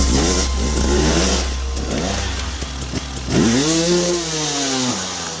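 A toy motocross motorbike's engine revs in repeated rising and falling whines, loud and close, over a steady low hum, with no one talking.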